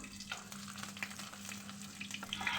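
Chopped garlic fries in hot oil with black cumin and dried chillies for a tempering, a soft, even sizzle with faint stirring ticks and a low steady hum underneath, no voices.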